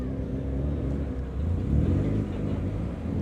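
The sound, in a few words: car doing a burnout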